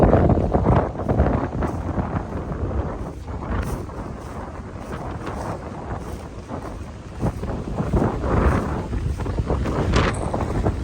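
Strong wind, fierce enough to snap trees, roars and buffets the microphone outdoors in a continuous loud rush with rising and falling gusts.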